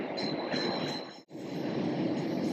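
Train rolling along railroad tracks in Chicago, heard as a steady broadband rumble with a high metallic whine, loud and continuous apart from a brief near-silent dip midway.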